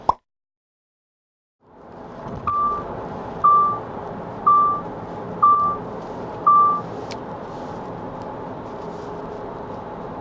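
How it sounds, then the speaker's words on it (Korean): Sharp warning alarm of a 2019 Jeep Cherokee: five identical beeps spaced about a second apart, ringing clearly over a steady low hum of cabin and road noise. "방금 소리가 녹음이 됐는지 모르겠는데, 이 차에는 경보 시스템이 굉장히 많은 상황에서 나오게 돼 있습니다."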